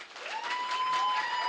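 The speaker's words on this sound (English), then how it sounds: "please clap for her." Audience applause at a live storytelling debate show, a brief, moderately distant patter of clapping with a steady tone running underneath.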